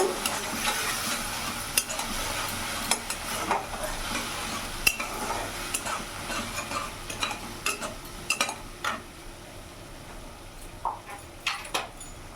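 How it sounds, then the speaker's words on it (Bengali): Ground chilli, cumin and coriander powders fry in a pan while a spoon stirs them, giving a steady soft sizzle broken by frequent sharp scrapes and taps of the spoon against the metal. "এবার ভালো করে মশলাটা মিশিয়ে নেব"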